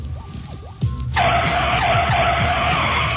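Tires squeal in a loud sustained skid after a short lead-in of engine noise, the screech holding steady to the end with no talking.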